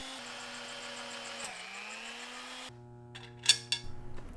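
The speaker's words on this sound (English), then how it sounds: "I needed to use progressively larger drills for the small connector holes." A drill whines steadily through connector holes in a panel, pitch dipping and recovering under load, then stops before a few light clicks and taps.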